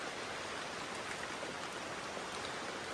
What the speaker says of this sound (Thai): โอ้ฝนมันตก